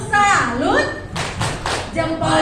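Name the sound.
children clapping a clap-salute chant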